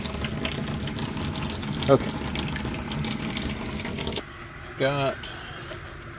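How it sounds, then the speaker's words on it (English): Fresh water gushes steadily through a Furrion tankless water heater, a close continuous rushing flow that cuts off abruptly, followed by a brief spoken word. "now we're just running our fresh water through here."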